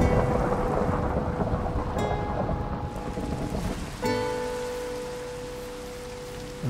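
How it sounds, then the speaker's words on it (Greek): In the Minecraft video game, heavy rain pours steadily while thunder rumbles loudly throughout. The storm continues as a dense, constant wash of sound, broken by a sudden crack partway through. "Βρέχει πάρα πολύ."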